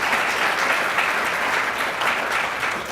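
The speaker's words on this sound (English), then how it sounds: "You can clap." Dense, steady applause from an audience at a city state-of-the-cities address, continuous and fairly loud throughout with no talking.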